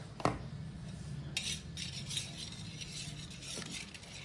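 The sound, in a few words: mixing yogurt with chilli powder and turmeric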